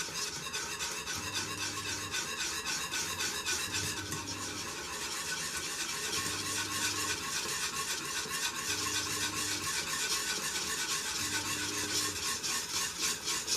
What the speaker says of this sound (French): on continue à remuer de temps en temps